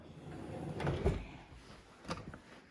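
A drawer slides open and shut, two soft wooden thumps about a second apart, close by in a quiet room.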